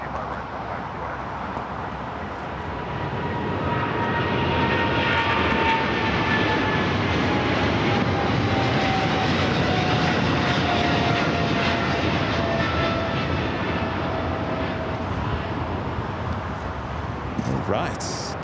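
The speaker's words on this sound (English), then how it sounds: "China Airlines cargo 777 freighter already rolling down 25 left." China Airlines cargo Boeing 777 freighter taking off from runway 25 left at LAX, a steady loud roaring engine rumble that builds and holds, with voices talking throughout.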